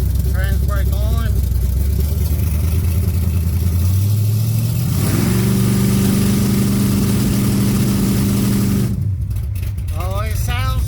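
A 1980 Trans Am V8 held on its trans brake idles loudly and close, then revs up to a sustained high roar for several seconds before dropping back to a rough idle, with a voice talking briefly over it.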